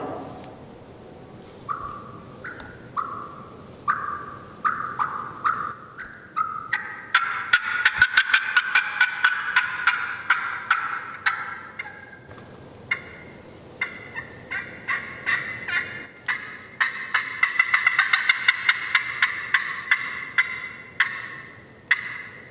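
Steady hen turkey clucks and yelps imitated on a slate call while turkey hunting in Missouri, repeated in quick rhythmic runs that build into louder, faster cackling sequences, close and clear.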